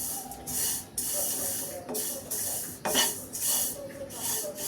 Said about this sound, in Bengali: এটাকে একটু শুকনা খোলায় একটু ভেজে নেই